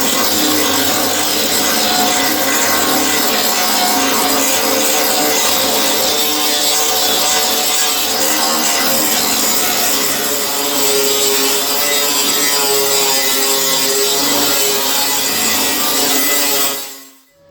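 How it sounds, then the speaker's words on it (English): A grinding stone wears welds off a rusted car panel in one continuous, loud, harsh grind, held steady and close for about seventeen seconds before it cuts off at the end, with no voices. "I'm going to grind it off"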